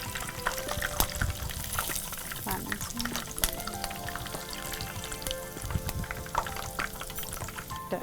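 Chicken potato balls frying in hot oil, a continuous dense sizzle and bubbling with scattered clinks of a utensil, a voice talking over it.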